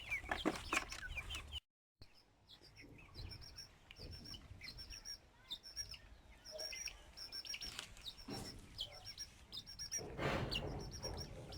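Chickens clucking and chirping around a yard, with scattered bird calls and some rustling, fairly close and steady throughout.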